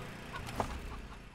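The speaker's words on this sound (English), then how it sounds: "So we have a cyber chicken." A cyber chicken in Wasteland 3 lets out a short, quiet cluck or two against a soft game background.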